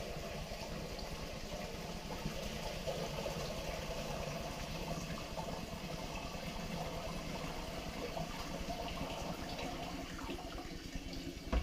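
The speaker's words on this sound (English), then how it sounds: "I'm going to pour all my liquid through this. Try and get all those cherries out of there." Mead liquid with cherries pours steadily through a strainer into a brewer's bucket, a continuous close splashing, trickling wash of liquid that runs evenly for the whole stretch without talk.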